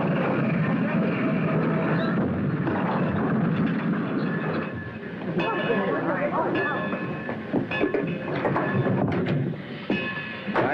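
A train rumbles and clatters along close by, with rattling wagons and metallic screeches, while people shout and talk over the noise.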